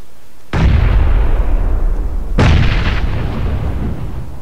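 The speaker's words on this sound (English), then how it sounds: "Pop a grenade." Two heavy grenade blasts from PUBG, a battle royale shooter, go off about two seconds apart, each a sharp booming burst followed by a long rumbling decay, with no voices over them.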